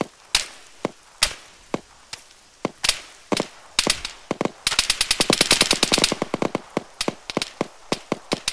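Gunfire from the Arma 3 military shooter in a battle royale match, with scattered single shots followed by a dense rapid automatic burst midway, then more sporadic cracks, loud and without talk.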